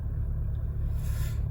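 A 2021 Toyota Hilux four-wheel-drive pickup with a turbo diesel engine runs steadily, a strong low rumble close by with no talk over it.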